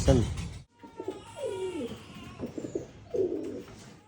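Pigeons kept for sale coo in low, rolling calls close by, interleaved with someone speaking throughout.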